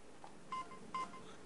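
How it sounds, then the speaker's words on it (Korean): Telephone keypad pressed using the mouth by a person with a disability, two short quiet DTMF tones in quick succession over faint room noise. "이제 급한 도움이 필요할 때면 입을 이용해 전화를 걸 수 있게 됐습니다"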